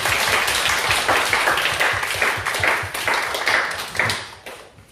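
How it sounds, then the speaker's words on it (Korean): A congregation at a Korean Full Gospel Easter Sunday service applauds with brisk, continuous clapping for several seconds, gradually thinning and fading at the end. "우리 부활하신 주님 앞에 박수로 하나님 영광 한번 드립시다"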